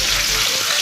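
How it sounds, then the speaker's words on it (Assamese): Food frying in a pan gives a loud, steady, close sizzle with no pauses over its short length. "এয়া ভাজি আছে"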